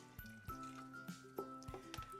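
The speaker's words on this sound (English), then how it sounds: "let's get a little bit more water in there" Water is poured into a simmering pot of Georgia candy roaster squash soup, with soft liquid splashes, drips and a light clink, quiet and close, over a faint steady hum.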